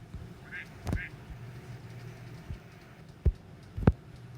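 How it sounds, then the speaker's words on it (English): A duck gives two short quacks early on, fairly faint against a low ambient hum, followed later by a couple of sharp thumps. "the duck says,"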